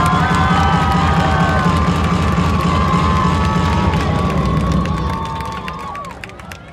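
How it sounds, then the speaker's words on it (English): Crowd in a large venue cheering, shouting and clapping for student performers at a spring school band jamboree, loud and sustained with whistles and voices over a dense wash of applause that eases off near the end. "Let's give a round of applause for all of the students that performed today."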